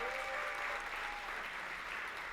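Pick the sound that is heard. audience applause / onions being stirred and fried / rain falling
audience applause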